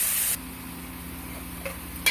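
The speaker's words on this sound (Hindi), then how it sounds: "अब हम डालेंगे इसमें प्याज, इसको हम भूनते रहेंगे" Chopped onions sizzle softly in a hot pan for macaroni, a steady faint frying hiss with a light stir and a small clink near the end.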